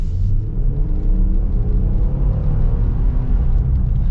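A 2025 Nissan Pathfinder Rock Creek with a 9-speed automatic accelerating, its engine holding a steady loud rumble heard from inside the cabin, with smooth, barely noticeable gear changes.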